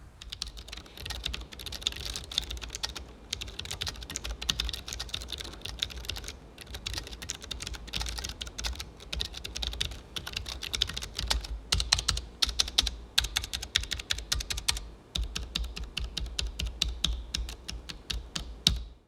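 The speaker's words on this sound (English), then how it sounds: "now that you heard the sound test" Rapid clacking of an Aorus 17 gaming laptop's mechanical keyboard with Omron switches, keys typed in quick, uneven bursts with short pauses, close and crisp.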